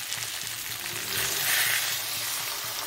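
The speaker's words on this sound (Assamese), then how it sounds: "এতিয়া অলপ দেৰি ভাজি ল'ম" Food sizzling steadily in a pan, a continuous close hiss of frying oil that swells slightly midway, with no voices.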